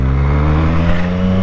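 A Triumph Street Triple 765 motorcycle engine running in first gear, a loud, close, steady droning hum with strong even harmonics and no pauses over a brief moment.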